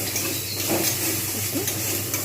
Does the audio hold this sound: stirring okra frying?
yes